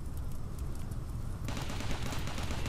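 Gunfire from the video game RimWorld, a dense continuous burst of rapid shots that grows louder and harsher partway through, without talking.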